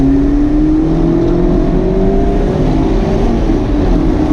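A 2019 Mazda MX-5 RF pulls away with a steady, loud engine drone that climbs gently in pitch as it gathers speed, heard from inside the car with no talk.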